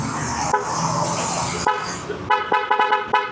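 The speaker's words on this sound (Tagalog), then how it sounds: "Loud horn." An aftermarket loud horn on a Yamaha Lexi 155 scooter blares continuously for over a second, then sounds again in a rapid series of short, sharp toots.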